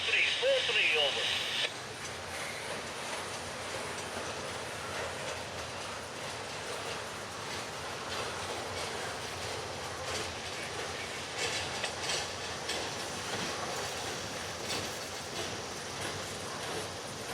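A train rolls past on a Georgia main line, a steady rumble with faint clattering wheels and a slight mechanical rattle heard from trackside at moderate distance, with a brief radio voice at the start.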